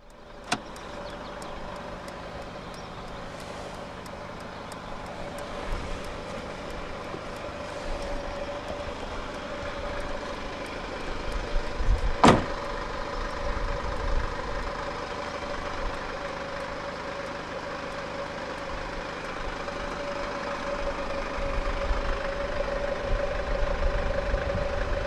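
The diesel engine of a 2015 Mercedes-Benz V 250 BlueTEC idles at a steady low rumble for about twenty-five seconds, with a sharp click near the middle and faint mechanical noises around it.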